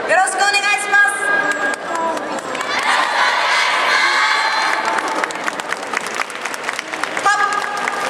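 An audience at a yosakoi dance festival claps and cheers for a dance team, a dense, loud wash of applause with shouts and whistles, joined partway through by rhythmic music and an amplified voice.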